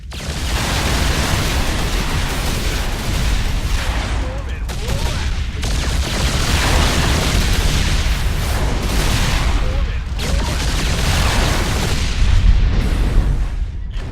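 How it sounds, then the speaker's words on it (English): Viking fighters in StarCraft II fire missiles at battlecruisers, heard as a loud, dense barrage of blasts and booming impacts that runs without letup for the whole stretch. "It's armed with 2 powerful missiles that it can use to engage enemy capital ships."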